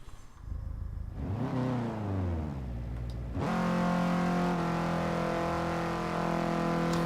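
An all-wheel-drive car in Forza Horizon 3 accelerates hard through tuned short gears, its engine revving up in rising sweeps, dropping at each quick shift, then holding a loud, steady high-rev drone.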